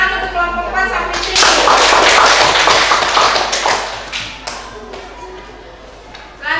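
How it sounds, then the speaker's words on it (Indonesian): Applause for group 4 in a classroom presentation, a burst of close hand clapping that swells for a few seconds and then fades, with voices faintly present. "Tepuk tangan untuk kelompok 4 Safitri"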